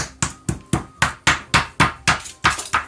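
A meat mallet pounds round steak in a quick, steady series of about ten sharp thwacks, close and loud.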